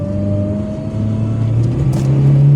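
Car engine during a driving lesson, a close steady hum that climbs in pitch as it revs, with no talking.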